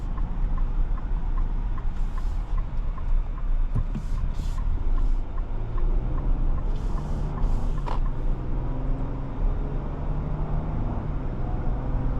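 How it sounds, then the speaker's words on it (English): A steady low engine rumble and road drone from inside a moving 2027 Infiniti QX80 SUV, continuous throughout, with occasional brief clicks and hisses over it. "Boy, do I love how the way that engine sounds."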